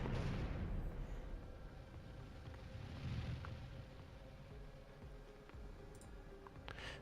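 Plasma battery weapons fire in a space battle in the game Star Traders: Frontiers, producing a dense, steady, rumbling barrage with a few sharper clicks and bursts toward the end.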